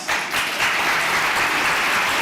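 Audience applause at a school district's State of the Schools address, a loud, dense wash of clapping that swells in within the first half second and holds steady to the end.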